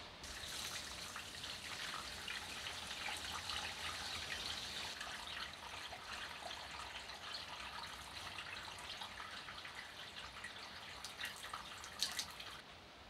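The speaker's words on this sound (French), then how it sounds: "On va remplir avec de l'eau. On va rincer 2 fois" Water runs and sloshes inside a Peugeot 103 moped fuel tank as it is filled and rinsed, a steady, fairly faint gushing wash with a few splashy knocks near the end.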